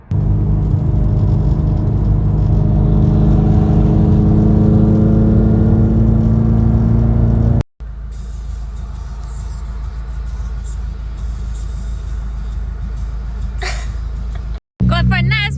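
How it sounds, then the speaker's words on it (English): Manual-swapped Nissan 240SX convertible on the road, a constant loud engine drone and wind roar from inside the open car, running steadily with brief cuts between shots. "Going for a nice ride in that new convertible."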